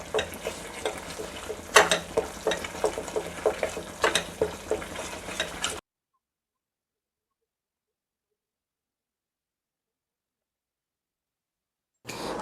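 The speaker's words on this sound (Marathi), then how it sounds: "थोडं पाणी घालून मसाला भाजून घेतल्यास आपल्या मसाल्याला छान अशी चव येते" Masala roasting with a little water in a pan for chicken curry: steady close sizzling with repeated scraping stirs of a spoon against the pan for several seconds, then silence before a brief return of sizzle at the very end.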